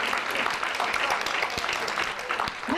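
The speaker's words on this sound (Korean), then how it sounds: "지금 한번 다 같이 한 5초 정도만 신나게 박수를 치면서" A live audience claps enthusiastically together, a dense, steady wash of many hands filling the room at close range, with a few scattered voices mixed in.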